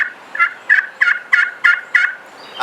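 Loud, close turkey yelps in a steady run of six evenly spaced notes, made with a call imitating a hen, alone with no talk, during a turkey hunt.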